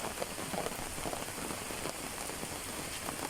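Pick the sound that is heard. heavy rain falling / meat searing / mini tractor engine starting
heavy rain falling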